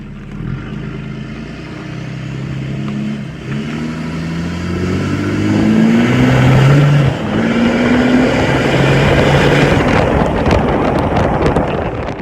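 A pickup truck with a chrome exhaust stack drones along at highway speed, its exhaust rumble rising as it accelerates through gears, with steady wind and road noise.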